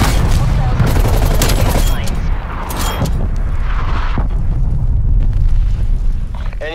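Incoming artillery strike in a Call of Duty match, a dense continuous barrage of booming explosions and rattling gunfire, loud and sustained throughout with no clear pauses.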